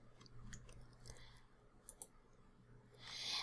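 Mouse clicks while drawing with the line tool in Adobe Illustrator, a few light, quiet clicks scattered through a faint background hum, followed by a brief rise in hiss at the end.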